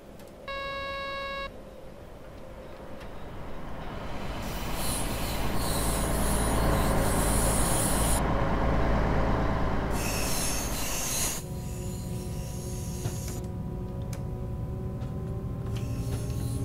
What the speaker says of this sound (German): Und lassen mal den Zug hier an uns vorbeifahren.